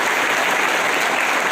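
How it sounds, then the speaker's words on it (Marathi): Dense, steady applause from a large audience at a foundation programme in Nandurbar, loud and continuous without pause. "त्याच्यासाठी एकदा जोरदार टाळ्या होत्या"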